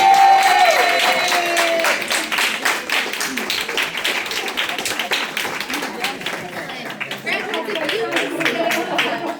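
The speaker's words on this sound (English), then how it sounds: "Give them a big round of applause." An audience at a pinning ceremony breaks into steady applause, dense clapping that starts loud and continues evenly, while a voice talks over the start.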